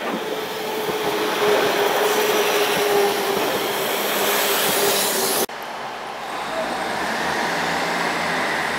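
A Barrow-in-Furness train, 195-120, rumbles steadily through Preston station with a broad roar and a faint high whine, then the sound shifts abruptly to a quieter, lower rumble.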